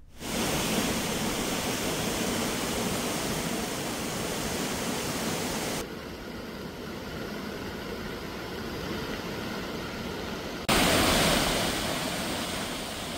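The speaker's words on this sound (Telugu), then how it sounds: "వాయుగుండం ప్రభావంతో విజయనగరం జిల్లాలో విస్తారంగా వర్షాలు కురుస్తున్నాయి" Heavy rain from a Bay of Bengal low-pressure system pours down in Vizianagaram district with overflowing water, a dense, unbroken roar that shifts in level partway through, with no voices.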